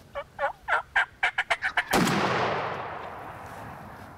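A wild turkey in a Kentucky spring woods-and-field setting gobbles in a rapid series of about nine rising calls, followed by a single loud gunshot that rings out and decays slowly.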